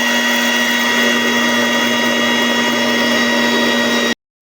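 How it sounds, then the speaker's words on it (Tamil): A blender grinds tomatoes finely for soup in a steady, loud, continuous whir with a constant motor hum, running alone for about four seconds before cutting off abruptly. "அதனால் அதை நல்லா நைஸாக அரைக்க திரும்ப இன்னொரு தடவை அரைக்க"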